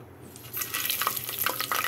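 Whole spices (cloves, cardamom, bay leaf and shahi jeera) hit hot oil for a mutton curry, setting off a sudden close crackling sizzle after a quiet half-second, with bright pops over a steady hiss and no voices.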